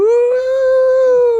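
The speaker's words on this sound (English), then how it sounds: "You can hear her howling in the background." A dog howls in the background at a furry convention, holding one long, steady, tonal wail that stays loud and clear throughout, with no talking over it.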